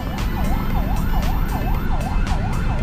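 A loud wailing ambulance siren sweeps up and down rapidly and repeatedly over rumbling engine noise in traffic on EDSA, close by.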